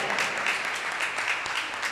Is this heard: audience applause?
yes